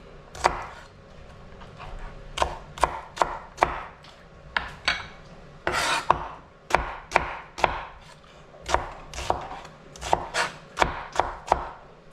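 Knife chopping a green pepper and a purple onion on a board, with quick bursts of close, crisp cuts broken by short pauses, steady and alone without talk.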